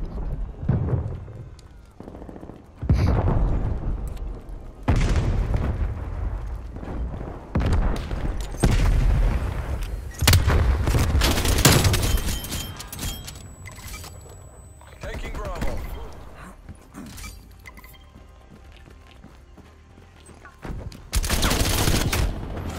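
Gunfire in Call of Duty: Black Ops Cold War, with bursts of automatic fire and rapid shots coming in loud clusters separated by quieter gaps, with a player talking at times.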